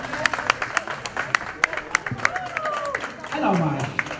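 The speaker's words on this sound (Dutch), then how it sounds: "applaus. Kom op." Scattered crowd clapping at an outdoor prize ceremony, individual sharp claps standing out at moderate distance while someone talks over them.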